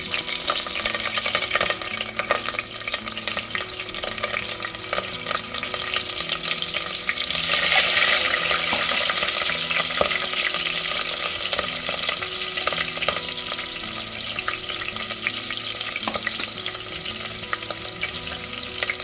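Cinnamon and cloves frying in hot oil in a pan, a continuous loud crackling sizzle with stirring running throughout.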